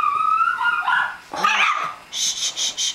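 A puppy plays with a chew toy, giving out high whines, yips and a short bark, close and loud, ending in a quick run of squeaky yelps.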